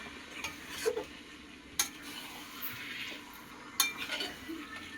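Australian chicken kosha being stirred in a pan over low flame, with soft scraping and a faint sizzle under scattered sharp clinks of the utensil against the pan, close and fairly quiet.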